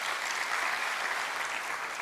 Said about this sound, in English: I think Professor Nawangwe deserves another round of applause